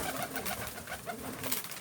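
Pigeons cooing softly and continuously through a steady background hum, the low calls repeating in overlapping waves at close to moderate distance, with no one talking.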